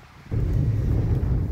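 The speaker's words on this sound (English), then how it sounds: "it's getting really windy" Low, rumbling wind buffets a microphone at a dacha in Khabarovsk, Russia, in March, surging in abruptly after a quiet moment and then roaring steadily at close range.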